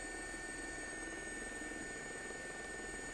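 Helicopter in a flight simulator game, a steady droning rotor and engine whine with constant tonal hum, even and unbroken throughout, no talk.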